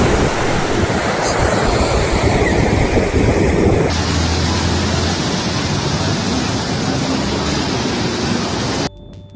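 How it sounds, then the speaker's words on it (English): Large ocean waves crash steadily along the Rio de Janeiro coast in a loud, continuous roaring wash of surf, with wind buffeting the microphone, ending in a sudden drop near the close. "The waves grew taller, louder, and stronger"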